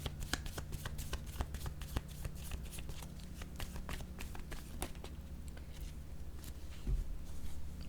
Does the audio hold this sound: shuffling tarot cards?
yes